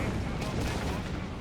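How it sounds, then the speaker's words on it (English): Sustained battle din from a Company of Heroes 3 match, with machine gun fire from a crew holed up in a church mixed into dense gunfire and explosions, loud and continuous under a commentator's voice. "Machine gun crew there in the church."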